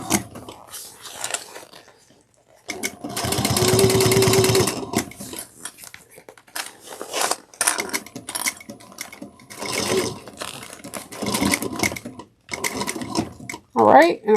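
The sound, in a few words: sewing machine backstitching a clutch bag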